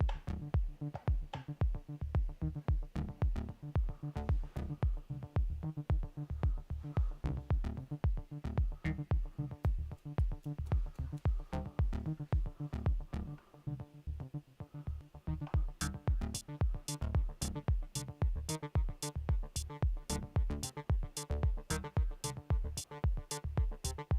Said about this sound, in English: I added another synth line actually that I want to use like a melody, but the melody is only 2 notes